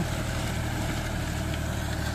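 A John Deere 5310 55 hp tractor works a field pulling a disc harrow, its engine giving a steady, fairly faint low hum and rumble with no voices.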